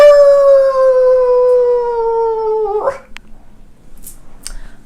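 A person imitates a long, drawn-out howl that slowly falls in pitch, loud and close, followed by faint rustling.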